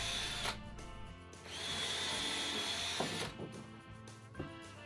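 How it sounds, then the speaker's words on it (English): A power drill whirs in several sustained bursts with brief pauses between, drilling and driving screws into 2x4 wood for a flower box, close and steady, with no talking. "then drilling out and screwing in"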